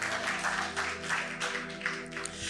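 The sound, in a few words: applause from the church audience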